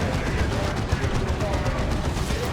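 Creeping Barrage artillery fire in Dawn of War 2, heard as a dense, continuous clatter of rapid shell impacts and gunfire over low rumbling, steady and loud throughout.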